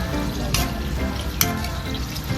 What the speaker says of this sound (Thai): พริกทอดแค่แป๊บเดียวก็พอนะคะ